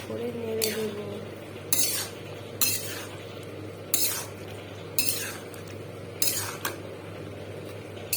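Potatoes and soybean chunks stirred in a wok for a meatless soybean curry, a utensil scraping and clinking against the pan in about seven distinct strokes over a steady low simmering hiss, close and fairly loud.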